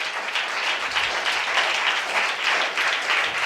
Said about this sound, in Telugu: గట్టి క్లాప్స్ కొడదాం